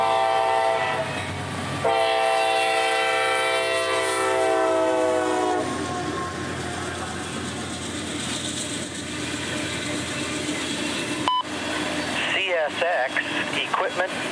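CSX coal train CO40 notching up on the A-Line near Jacksonville: locomotive horn blares loudly at first, then diesel rumble and rolling rail noise build steadily, with clanking toward the end.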